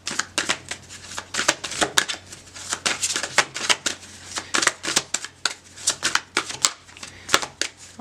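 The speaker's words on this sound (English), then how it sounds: "I'll shuffle one more time." Steady, rapid riffling and tapping of tarot cards being shuffled, crisp and close, repeating in quick bursts for several seconds with no talking.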